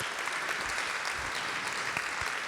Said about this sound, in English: So you can start clapping now.